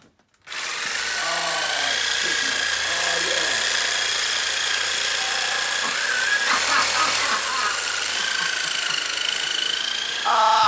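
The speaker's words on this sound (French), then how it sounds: "c'est juste une scie sauteuse, j'ai soudé le bout à la..." A jigsaw with a part welded onto its blade end, rebuilt into a makeshift massage gun, runs as a steady loud buzzing motor hum with a harmonic whine for about ten seconds, pressed against someone's lower back, with brief voices nearby.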